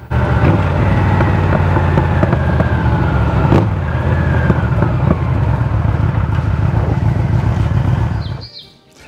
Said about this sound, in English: The V4 also has a beautiful burble on deceleration.